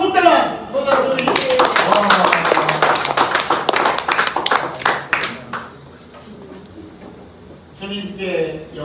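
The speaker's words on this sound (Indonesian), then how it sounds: "Tepuk tangan" A church congregation at a Sunday service claps hands in a quick, loud, rhythmic burst for about five seconds, then fades to quieter sounds before a short second round of clapping near the end.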